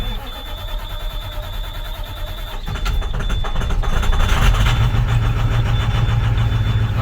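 A VT365 diesel engine turns over and catches, then settles into a steady idle. The low, continuous rumble grows louder and rougher as it fires, sounds close, and has no talk over it.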